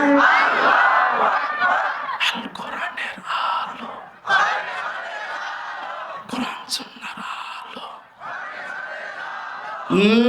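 A crowd at an Islamic religious gathering in Rangpur calls out the takbir response to a ghazal, with loud, massed voices rising and falling in bursts and a few sharp shouts.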